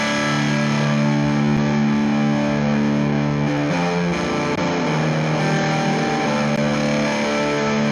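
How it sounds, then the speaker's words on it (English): Electric guitar played through an EarthQuaker Devices Acapulco Gold power-amp style distortion pedal, loud, thick sustained chords ringing continuously with a chord change midway, no voices. "It is a power amp style distortion. It is just one volume and it sounds absolutely massive."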